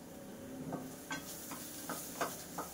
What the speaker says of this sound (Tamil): போட்டு அதையும் அந்த எண்ணெயோட சேர்த்து ஒரு வதக்கிக்கலாம்.